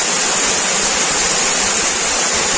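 The Asurkhol cave waterfall in Keonjhar, Odisha, pours in a dense, loud, unbroken roar of falling water, close and steady with no voices.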